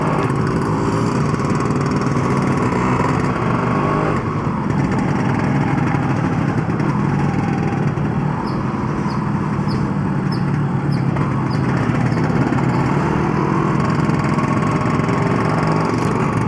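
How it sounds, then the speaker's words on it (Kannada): Lightly ported motorcycle engine running steadily nearby, a loud continuous buzzing drone that holds at an even pitch for the whole stretch with no voices. "ಅವನು ಇವಾಗ ಇಂಜಿನ್ ಸ್ವಲ್ಪ ಲೈಟಾಗಿ ಪೋರ್ಟ್ ಮಾಡಿಸಿದ್ದಾನೆ"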